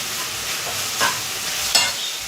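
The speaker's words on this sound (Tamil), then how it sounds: "நல்லா ட்ரையாகிற வரைக்கும் வதக்கிக்கலாம்" A pan of ingredients sautés until dry, a continuous close sizzle with a couple of louder scrapes of the stirring spoon against the pan.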